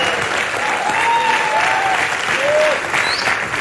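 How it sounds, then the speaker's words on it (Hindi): Loud, continuous applause from a studio audience at a televised show, thick and even across the whole stretch with a few cheers or whistles riding on top. "जोरदार तालियां।"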